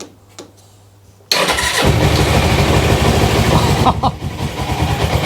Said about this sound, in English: So side stand up, clutch in, starter. Bit of choke.